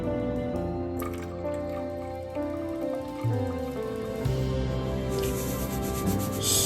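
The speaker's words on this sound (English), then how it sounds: "The stock we extracted, we will put back into the same pot." Prawn stock is poured back into a cooking pot, giving a soft, close run of dripping, splashing liquid with a few changes in pitch as the pot fills.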